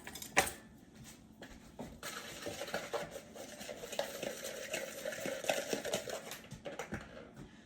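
A small whisk mixes garlic powder into a salt, pepper and garlic seasoning for beef stew, making quiet, quick, rhythmic scraping and ticking close by. One louder clack comes near the start, and no voice is heard.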